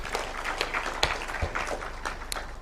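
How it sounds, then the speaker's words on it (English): Applause from senators at a mid-term retreat fills a hall, a continuous crackle of many hands with a few sharper claps standing out, moderately loud and steady. "Better applause for the Speaker, please."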